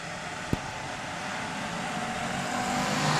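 Race cars accelerate off the green flag start at Texana Raceway Park's Fourth of July Spectacular, a steady broad engine roar building gradually after a single sharp knock near the start, with no talk.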